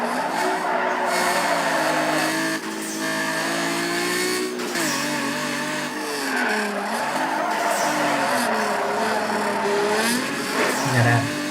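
Mitsubishi GTO race car in Need for Speed Underground 2, its engine droning and revving steadily with tire squeal and skids, with a voice talking over the driving throughout.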